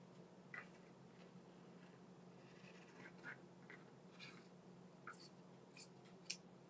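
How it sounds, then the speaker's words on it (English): Fabric scissors cut through cloth on a table, giving faint, soft snips and scrapes at irregular intervals over a quiet room hum. "I love the sound of scissors on the table cutting."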